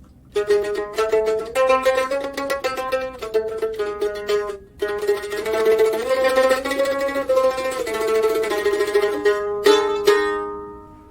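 A bowed string instrument plays a harmonic or gypsy tetrachord, a run of sustained notes with a prominent minor second and raised third, close and resonant, with a final higher note near the end.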